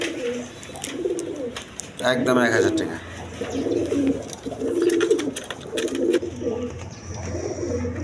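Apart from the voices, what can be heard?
red Maltese pigeons cooing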